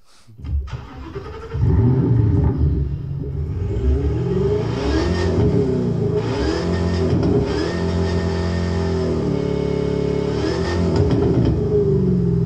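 A supercharged car engine starts and then revs hard and steadily, loud and close, with repeated rising and falling surges and no talking.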